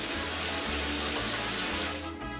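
Rice being rinsed under a running kitchen tap in a cooking show, a steady, close, unbroken rush of water splashing into a sink, with no voices.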